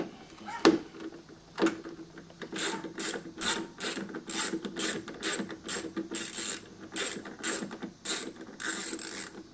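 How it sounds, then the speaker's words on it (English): Ratchet with a 7mm socket backing out bolts on the side mirror of an S550 Ford Mustang: rapid rhythmic clicking strokes in close succession, preceded by a couple of sharp taps, close and fairly quiet. "For that, you're going to need a 7mm socket."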